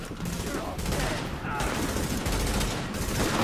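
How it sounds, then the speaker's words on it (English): Small arms gunfire in the video game The Division: dense, loud, continuous bursts of rapid shots crackle through all three seconds with no pause. "Taking small arms fire. Small arms fire."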